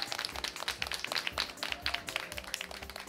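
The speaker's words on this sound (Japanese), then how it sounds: "改めて大きな拍手でお送りください" Audience applause at the close of a talk at a Tokyo Tower live-stream event: a small crowd claps steadily at moderate volume for several seconds.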